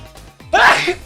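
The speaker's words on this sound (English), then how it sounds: "I gotta sneeze." A single loud, close sneeze bursts out after a brief quiet intake, a sharp explosive blast that trails off quickly, with no talk over it.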